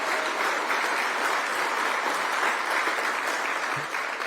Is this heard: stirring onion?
no